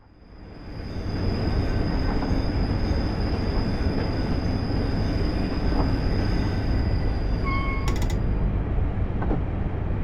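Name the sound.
Isle of Wight train running on the rails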